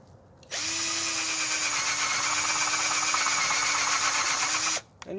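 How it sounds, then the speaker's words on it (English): A power drill whirs loudly and steadily for about four seconds, starting and stopping abruptly, close by with no talking. "I'm going to drill"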